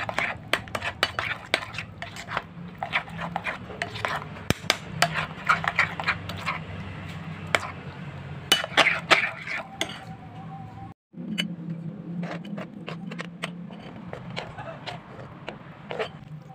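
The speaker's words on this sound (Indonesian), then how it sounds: "Aduk-aduk lagi sampai semua tercampur dengan rata." Batter with sliced shrimp and tofu being stirred in a bowl, a steady run of utensil clinks and scrapes against the bowl, close and busy, with a brief pause midway.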